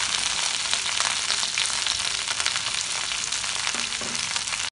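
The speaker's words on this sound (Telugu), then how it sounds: "కరివేపాకు వేగిన తర్వాత పుదీనా వేసుకోవాలి" Mint leaves frying with curry leaves in hot oil for Telangana-style pudina chutney: a steady, close, crackling sizzle throughout with a faint stir near the end and no talk.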